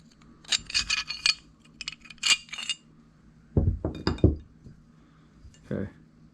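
Metal parts of a WW2 Remington Rand 1911 .45 ACP pistol clink and tap during disassembly in a few short, bright clusters, close and fairly quiet, with soft handling noises between them.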